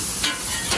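Hibachi-style fried rice being stirred and tossed with soy sauce, a close, steady scraping and sizzling on a hot surface with two brief louder stirs, no talking.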